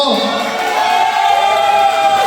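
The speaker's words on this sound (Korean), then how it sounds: "박수 한번 주십시오" A dense crowd applauds, roars and cheers steadily at a year-end party, with voices blending into a continuous wash of noise.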